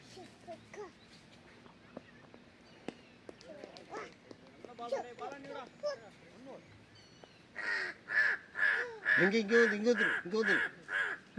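A crow caws repeatedly and loudly near a cricket ground in Chennai, a run of harsh rhythmic calls in the latter half, after quieter chatter and voices earlier.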